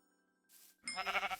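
A sheep in Minecraft (All The Mods 11) gives one short, fairly close bleat after a quiet moment with faint game tones, with no talk over it.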